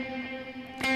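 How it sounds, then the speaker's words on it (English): A sustained electric guitar tone washes out in a big reverb tail, smeared with faint dotted-eighth delayed repeats, before a brighter attack near the end. "I've got a regular reverb on, kind of biggish, with a dotted eighth"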